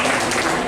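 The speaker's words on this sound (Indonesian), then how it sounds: "itu tepuk tangan untuk warga" Audience applause at a public address by a provincial deputy governor in NTT, Indonesia, a brief dense wash of clapping that stays loud and steady throughout.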